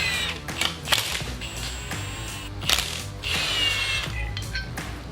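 A ratchet clicks in short, uneven bursts while loosening a bracket from an old automotive power steering pump in a shop, with sharp metallic ticks between brief pauses and no talking.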